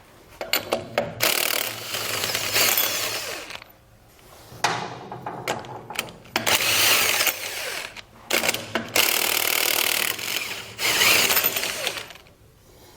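A power tool spins off lug nuts to remove trailer wheels from a 1917 Ford Model T, loud rattling bursts of impact hammering close up and broken by short gaps.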